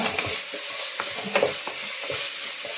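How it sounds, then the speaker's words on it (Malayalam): A spoon stirs chilli sauce through pasta in a hot pan, giving a steady soft scraping and sizzling with a few louder clinks, close and continuous with no talking. "ചില്ലി സോസ് ഒരു ടേബിൾ സ്പൂൺ നമുക്ക് ഊറ്റി കൊടുക്കാവേ നല്ലപോലെ മിക്സ് ചെയ്യുക"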